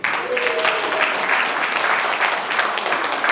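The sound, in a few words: audience applause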